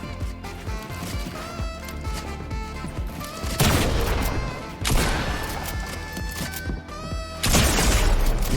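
Railgun fire in a shooter video game, with several loud, sharp crackling bursts over a busy layer of game effects and clatter.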